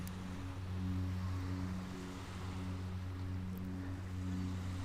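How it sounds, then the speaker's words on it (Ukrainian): Gentle ocean waves and flowing water for a relaxation meditation, a steady low continuous wash with a faint rhythmic swell, alone and without speech. "Зараз звучання води, це є звучання нашої душі."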